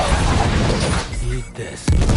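Weapons fire in the Death Stranding 2 video game as loud, dense bursts of booming shots that briefly drop away, then return with a sharp blast.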